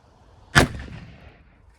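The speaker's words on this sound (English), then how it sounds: "the first bullet I'm going to shoot is the Nosler AccuBond" A single sharp 6.5 mm rifle shot firing a 140-grain Nosler AccuBond bullet into ballistic gel cracks loudly outdoors and close by, followed by a short decaying echo.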